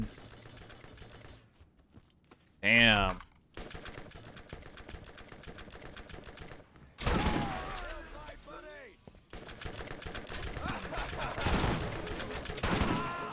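Gunfire in the shooter Borderlands comes in rapid bursts of sharp shots, some stretches heavy and continuous, with pauses and a brief electronic chirp between volleys, mostly mid-level in loudness.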